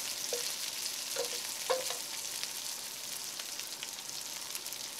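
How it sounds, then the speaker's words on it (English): Romanesco cauliflower florets frying with onions in a pot, an even close sizzle with a few spatula taps and scrapes in the first two seconds, then steady frying alone without talk. "it's time to add the green gobi or the Romanesco cauliflower florets into the pot. Fry them with the onions"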